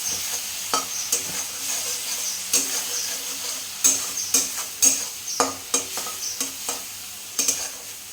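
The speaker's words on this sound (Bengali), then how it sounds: "সর্ষে বাটাটা দিয়ে বেশি নাড়বো না কারণ সর্ষে বেশি ভাজা করলে তিতো হয়ে যায়" Mustard paste fries in a pan while a utensil stirs it, sharp scraping clicks and taps recurring about once a second over a soft, steady sizzle, with no talking.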